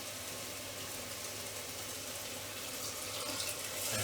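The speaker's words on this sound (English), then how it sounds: "I am going to add 4 cups of water." Water poured into a cooking pot holding rice and yellow lentils, a steady close splashing rush of liquid that swells slightly toward the end, with no talking.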